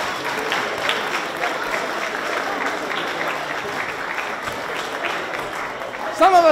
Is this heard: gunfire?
no